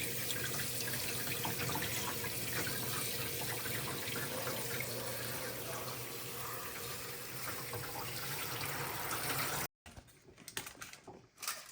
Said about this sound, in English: And then we throw it under cold water to stop the cooking process